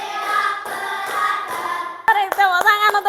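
A class of students gives a round of applause. A loose, noisy clatter is followed by several sharp, loud, closely spaced claps near the listener.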